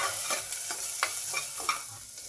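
Stirring and sautéing in a pan while making protein rice: a spoon scrapes in quick repeated strokes over a steady low sizzle, close and moderately loud.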